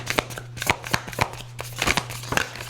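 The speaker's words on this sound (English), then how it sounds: "So I'll shuffle one more time and then we'll go ahead and pick a card." A deck of cards is shuffled close up in quick bursts of riffling flutters, several separate passes in a row.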